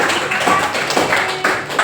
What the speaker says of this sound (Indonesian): Ya, tepuk tangan buat Aisyah